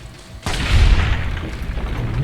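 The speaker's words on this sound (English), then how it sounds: "Nice shot, Boone." A single loud gunshot boom from the Fallout: New Vegas video game, a sharp broadband crack followed by a sustained rumbling tail and in-game ambience.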